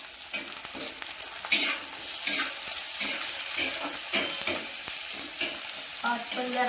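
Tomatoes stirred into frying onions in a pan, with a steady sizzle broken by repeated scraping spoon strokes, close up and with no voices.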